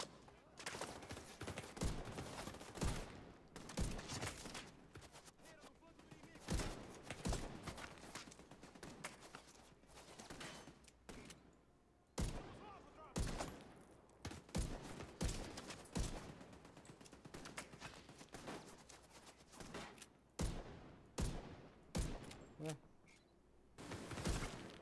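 Gunfire from a turret in The Division 2 video game, bursts of sharp shots repeating irregularly throughout, with someone talking over some of them.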